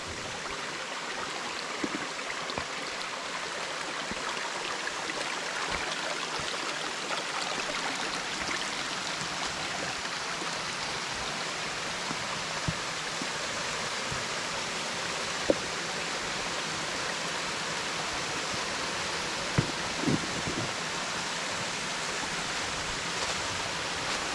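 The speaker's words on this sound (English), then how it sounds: "crossed on this beautiful little creek" A small creek rushes and burbles steadily for the whole stretch in late-winter woods, a constant broadband flow with a few tiny splashes and no voices.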